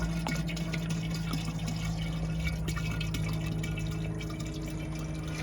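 Plastic-derived crude oil pours steadily into a distiller already holding a few gallons, a continuous liquid trickle and splash with faint drips, close and alone, no talking.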